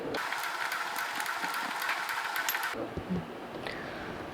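A sewing machine stitching fabric held in front of the presser foot, a fast steady mechanical whir and needle chatter for nearly three seconds, then stopping abruptly, leaving faint handling noises.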